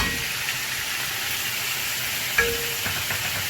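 Garlic ginger paste fries for beef nihari, a constant close hiss of oil in the pot with a single brief clink of a spoon partway through, no voices.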